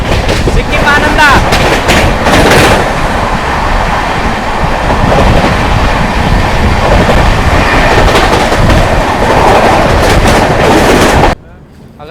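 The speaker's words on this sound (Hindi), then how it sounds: "सामने से आ रही है सिक्किम महानंदा" The Sikkim Mahananda Express rumbles past up close, loud and continuous with rhythmic clattering wheels and rail noise, a voice talking over it, before it cuts off abruptly near the end.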